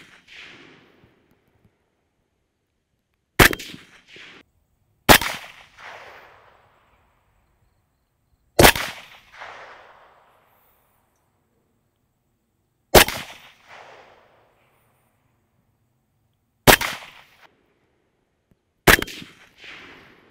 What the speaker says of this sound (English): we're just going to confirm zero here with the thermal aiming point, and then we'll move on to the laser. Let's shoot some stuff.